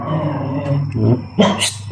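Dogs growl up close on a mountain trail, low rough snarls rising in short bursts and ending in a sharper outburst, with no clear talk over them.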